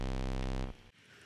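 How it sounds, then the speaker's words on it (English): A synthesizer oscillator set to a square wave holds a buzzy, harmonically rich tone, loud and steady, then cuts off abruptly, leaving a brief quieter tail. "Let's do something dramatic. Here we have square wave."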